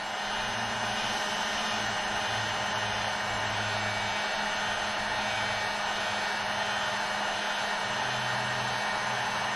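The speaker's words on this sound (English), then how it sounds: "we're going to heat up this part of the frame" A heat tool blows hot air onto a Harley-Davidson Street Glide frame section being prepped for powder coating, producing a loud, steady, unbroken whooshing roar for the whole stretch.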